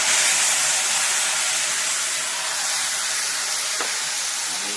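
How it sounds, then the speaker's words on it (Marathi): A pinch of turmeric and chopped bottle gourd go into a hot pan for a home-style vegetable dish. A broad, steady sizzle hisses loudly throughout, with no voices. "त्यानंतर चिमूटभर हळद घालायची आणि हा दुधी भोपळा टाकायचा त्याच्यामध्ये"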